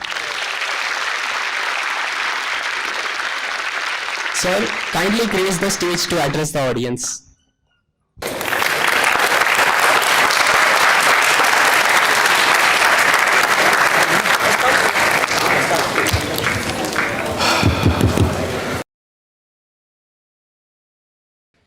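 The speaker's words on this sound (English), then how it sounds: "Please join me in welcoming Acharya Prashant with a big round of applause." Enthusiastic audience applause at an IIT Guwahati campus event, a long, loud, sustained roar of clapping from a full hall welcoming a spiritual speaker to the stage, with a brief announcer's voice and a short pause before the ovation swells again.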